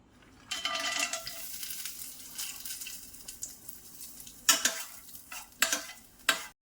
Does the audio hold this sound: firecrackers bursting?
no